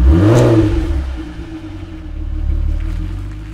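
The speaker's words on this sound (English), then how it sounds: "while the car purrs its way around the M25" A 3.2 V6 engine in an Audi TT Mk1 humming steadily as the car cruises on a motorway, a loud low rumble heard from inside the car that swells briefly near the start and again later.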